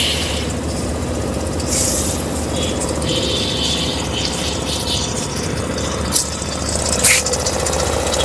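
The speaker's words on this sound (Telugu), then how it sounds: "ఒకసారి ఇంజిన్ స్టార్ట్ చేసి చూద్దాం." Suzuki Access 125 ABS scooter engine running at a steady idle, a continuous low hum close by, with a couple of brief higher clicks and hisses over it.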